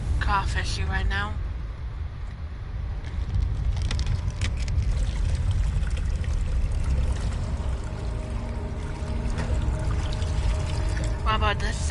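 Water pours and trickles continuously in Amnesia: The Dark Descent, a steady wet flow over a low rumble, with a nearby voice speaking briefly at the start and again at the end.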